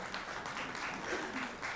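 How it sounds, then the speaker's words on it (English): An audience at a strategic plan launch event claps in a steady round of applause, dense and moderately loud throughout the short stretch. "Another round of applause,"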